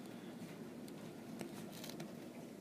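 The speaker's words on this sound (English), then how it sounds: "it's raining in Utah" Outdoor rain in Utah patters faintly and steadily, a soft continuous hiss with occasional slightly sharper drops and no voices.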